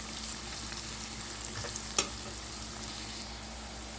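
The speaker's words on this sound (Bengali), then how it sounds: "আমার পেঁয়াজটা এরকম ভাজা হয়ে আসলে" Steady crackling sizzle of onions frying in a pan, with a brief louder stir or scrape midway; no voices.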